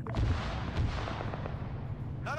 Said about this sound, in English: There's the AGS firing on its own.